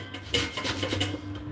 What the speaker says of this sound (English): I'm just using the box grater and rotating the lemon a little bit to get some of the great zest